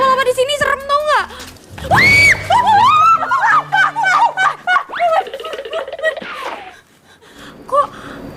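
A voice rises into short, shrill cries and exclamations, loud and close, mixed with gasps and rapid excited talk between people.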